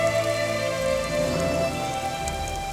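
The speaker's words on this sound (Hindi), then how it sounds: "लगता है बारिश नहीं रुकेगी" Steady rain pours down and patters on surfaces, a dense, continuous hiss with some tonal background hum; no voices.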